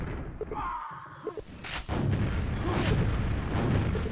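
A rocket explosion in a Quakeworld 4on4 match, a single sharp boom followed by a rumbling blast and ongoing in-game noise.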